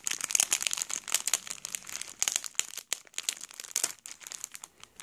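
Crinkly plastic mail packaging being opened by hand, with continuous close crackling and rustling, sharp crinkles and brief pauses throughout, no talking.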